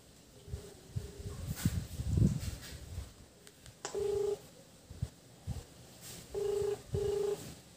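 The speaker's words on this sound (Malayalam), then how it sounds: "കാൾ വേറെ ഫോണിലേക്ക് കണക്ട് ആവുന്നുണ്ട്" A Jio phone plays repeated ringback tones in short paired beeps after a call is placed, mixed with close handling clicks and rustling, fairly faint overall.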